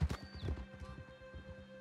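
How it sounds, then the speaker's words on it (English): Horse hooves clip-clop at a walking pace in Red Dead Redemption 2, a soft, even rhythm of quiet thuds lasting under two seconds, with a faint tonal game backdrop. "Look at my horse, Franklin."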